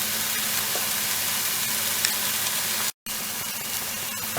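A spice mixture for Rajasthani lamb curry (laal maas) frying in oil, giving a steady close sizzle that stays even throughout, broken by one brief gap, with no talking.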